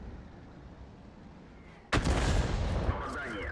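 A GW E 100 self-propelled artillery gun in World of Tanks fires on a winter map: one sudden, loud blast that cuts through a low ambient rumble, followed by a booming, rolling echo.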